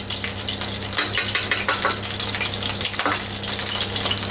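Corned beef fritter batter dropped into hot vegetable oil, a loud close sizzle and crackle that swells in bursts and keeps going steadily.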